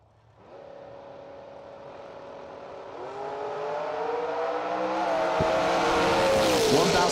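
A 1980 Monza race car at a drag race accelerates hard, its engine roar building steadily louder and rising in pitch over several seconds.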